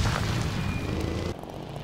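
An object explodes on impact in the video game Trailmakers, a loud booming blast that rumbles for about a second, then cuts off abruptly into quieter background.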